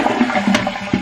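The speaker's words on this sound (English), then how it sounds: "And like I said, flush it." Toilet flushing in a home bathroom, a short loud rush of water with a sharp gurgle in the middle and a final surge at the end, heard close up.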